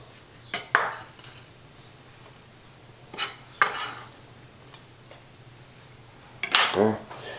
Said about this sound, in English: Give that a good stir. Mix it all in.